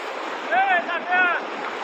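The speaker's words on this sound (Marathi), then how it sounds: "अतिशय असं पाणी भरपूर आलेलं आहे" A steady, broad roar of flood water rushing down a stream after rain, with a voice briefly calling out over it.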